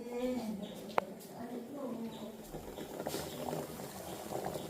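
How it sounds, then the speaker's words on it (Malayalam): Eggs boiling in a pot on the stove give a steady, soft bubbling hiss that runs the whole time, with people talking nearby over it and one brief sharp click. "ഓ മുട്ട കിടന്ന് തിളയ്ക്കുന്നേ ഉള്ളടേ."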